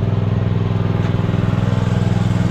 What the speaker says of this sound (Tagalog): pinandar ko lang yung makina para makapagkarga tayo ng tubig dito sa drum